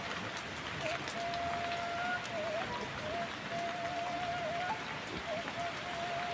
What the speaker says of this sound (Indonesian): Hujan teman-teman tuh